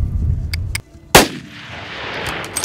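A rifle fires once on an African hunting safari: a single sharp, loud, close crack that cuts through quiet outdoor background, followed by a short fading echo and soft rustling.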